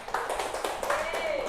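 Students applaud in a classroom during an Islamic studies microteaching lesson, a brief burst of scattered clapping mixed with young voices talking and calling out.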